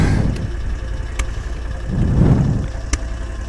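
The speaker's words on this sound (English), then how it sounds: "That engine doesn't like running at an angle." An Argo 8x8 ATV engine running steadily at a low rumble on a steep 40-degree slope, swelling and straining briefly, with occasional clicks and knocks from the vehicle.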